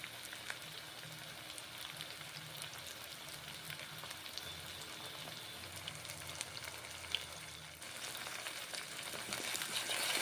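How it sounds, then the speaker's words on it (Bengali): Onion, ridge gourd and moong dal frying in a pan give a steady, soft sizzle throughout, with faint stirring scrapes and the hiss growing slightly brighter near the end. "পেঁয়াজ ঝিঙে এখন ভেজে নিচ্ছি।"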